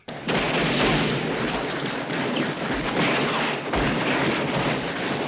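Dense, continuous gunfire and booming blasts roar without pause, loud and chaotic, a heavy battle scene from the 1985 film Pale Rider.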